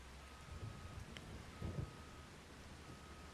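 Soft, steady video game rainfall hisses faintly in the background of a farming game, Riverbend Springs map, with low rumbling underneath and no voices.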